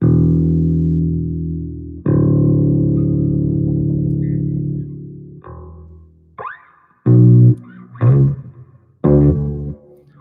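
Deep sustained notes from a 1990 Ibanez SB900 bass guitar through plate reverb ring out with a long, washy reverb tail, followed by several shorter plucked notes that bloom and decay.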